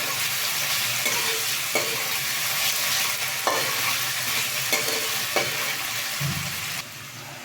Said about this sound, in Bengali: এটাকে একটু ঢেকে ঢেকে ভেজে নেব যাতে আলুটা একদম নরম হয়ে যায়